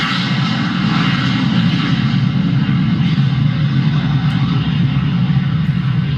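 Jet airliner roaring as it takes off, a loud, steady broadband engine rush with deep low rumble that holds at full power throughout, no voices.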